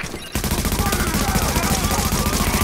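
Dense gunfire from a firefight in the video game The Division, with rapid repeated shots in a steady, loud burst that breaks in after a brief quiet start and continues throughout.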